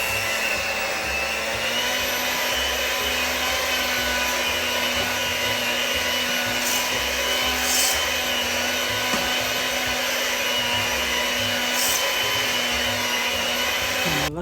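A hand mixer runs at medium speed to beat mashed potatoes for a steak dinner, giving a steady, unbroken whirring drone with a faint high whine. It holds at constant loudness throughout, with no talk.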